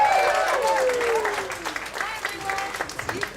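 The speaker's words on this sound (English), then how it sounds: "Can we have an applause for Norma?" Applause from an audience at a PechaKucha Night event in Ubud, rising under and after a speaker's talking and thinning toward scattered, uneven claps by the end.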